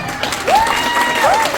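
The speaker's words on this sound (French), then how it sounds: "Applaudissez du Poiron, s'il vous plaît." Applause and cheering from an audience at a French event, clapping mixed with whistles that rise and fall over the crowd noise.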